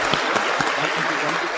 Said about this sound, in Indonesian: Jadi tepuk tangan sekali lagi buat lingkungan One Vision.